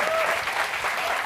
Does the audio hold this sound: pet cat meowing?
no